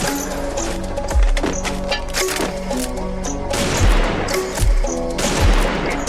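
Rapid bursts of gunfire from a shooting video game, with repeated shots, heavier thumps and impacts over a busy, continuous game soundtrack, loud and close throughout.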